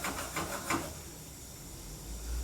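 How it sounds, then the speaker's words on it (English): Ground beef sizzles in a hot pan with a soft, steady hiss, a few crackly pops near the start, then settling into a quieter frying sound. "it's starting to sound like it's frying, which is what you want"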